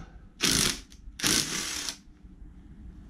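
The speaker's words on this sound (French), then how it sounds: "La clé à choc, enfin la petite visseuse, elle tape pas si fort que ça" A small impact driver works on a car water pump on a PSA ES9J4 V6 engine. It gives two short, loud rattling bursts, the second one longer, followed by a quiet tail.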